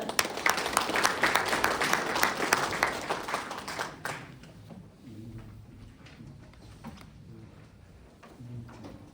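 An audience at a Korean National Assembly policy forum applauds to welcome a committee chair, with loud, dense clapping for about four seconds before it cuts off, leaving quiet room tone and faint voices.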